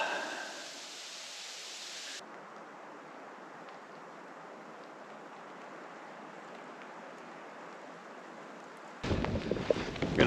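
Steady broadband wind noise from a winter snowstorm at a campsite, a constant hiss buffeting the microphone with a louder gust or rustle near the end; no talking.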